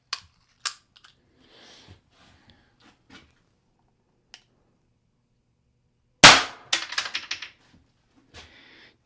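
A less lethal derringer fires with a sharp, close crack followed by a quick scatter of metallic clicks and rattles, set among sparse handling clicks in an otherwise quiet space.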